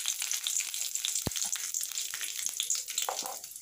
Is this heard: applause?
no